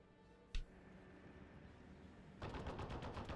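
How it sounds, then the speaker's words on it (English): A WC-52 vehicle in Steel Division 44 fires a rapid automatic burst late in the moment, preceded by a single sharp shot over a quiet battlefield hum. "WC-52 getting some shots off"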